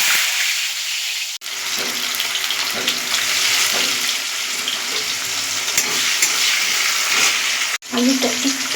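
Potatoes fry with salt in hot oil in a wok, a steady loud close sizzle running throughout with a couple of brief breaks.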